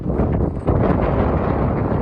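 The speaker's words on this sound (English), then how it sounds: "It's also very windy." Strong wind buffets the microphone on a mountaintop high above the Grand Canyon, a loud, continuous roaring rumble with gusty surges and no voices.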